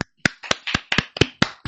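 Sharp, close handclaps ring out at a festival in honour of the volunteers, about eight crisp claps in a quick, slightly uneven rhythm with silence between them.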